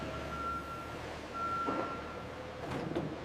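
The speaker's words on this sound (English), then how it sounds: "Trucks transport toys to retail stores worldwide." A truck hauling toys sits idling with a faint reversing beep, two soft thumps and a hiss close to the end, fairly quiet under a rumbling engine background.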